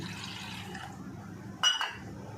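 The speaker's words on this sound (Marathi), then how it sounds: "आता पाणी त्याच्यामध्ये मिक्स करते" Water poured into kokum agal in a bowl, a short liquid splash near the end after a quiet stretch, close and brief, no talk.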